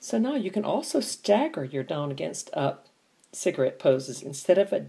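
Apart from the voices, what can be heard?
No everyday noise stands out behind the speech.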